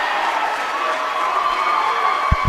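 A loud crowd in a college men's basketball gym roars, with cheering and shouting sustained throughout and a couple of thumps near the end.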